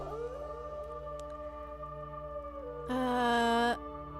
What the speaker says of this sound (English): I think I'm gonna be doing some singing in this grove, some howling.